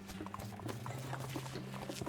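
Steady clip-clop of horse hooves in the West of Loathing video game, an even trotting rhythm running the whole time beneath a low hum, with no talking.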